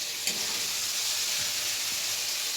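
Vegetables with turmeric frying lightly in a pan, a soft, even sizzle with a faint knock or two of a spoon, close and without talk.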